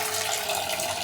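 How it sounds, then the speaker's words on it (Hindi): Tap water pours steadily into a bowl of cut potatoes in a home kitchen, a brief continuous splashing rush heard up close with no talk. "मैं डाल रही हूँ पानी।"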